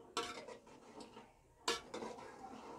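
Raw potato pieces being stirred into masala in a pan make a quiet scrape and clatter of a utensil against the pan, in two short bursts separated by a pause.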